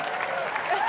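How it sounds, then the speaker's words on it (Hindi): A studio audience on a TV comedy show applauds comedian Johnny Lever in a brief, dense burst of clapping, with a voice faintly beneath it. "जोरदार तालियां जॉनी लीवर के लिए होनी चाहिए"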